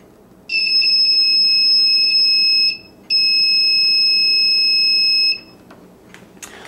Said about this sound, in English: Another little simple device that I can power with two AA batteries is a small little buzzer.